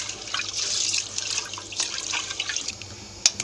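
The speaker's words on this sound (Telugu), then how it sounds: "వాటర్ పోసుకొని శుభ్రంగా ఒకసారి కడగాలండి" Rice and moong dal are rinsed in water in a kitchen for sweet pongal prasadam, giving a steady close splashing and trickling wash with small drips and one sharp clink near the end.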